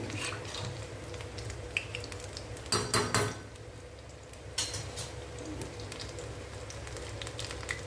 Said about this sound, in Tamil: ஒரு பக்கம் வெந்தோன்னே மறுபக்கம் திருப்பி போடுங்க.